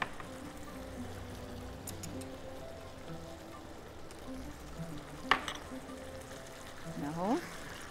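Beef fillet fries in butter in a pan with a steady low sizzle, broken by a sharp clink of a utensil and the scrape of moving the meat, while someone talks faintly.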